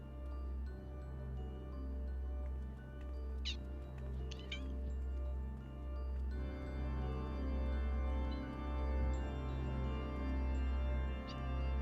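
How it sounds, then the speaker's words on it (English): A cat meows a few times in short, high cries, standing out faintly over a steady, droning musical background. "Chat, can you hear the meows?"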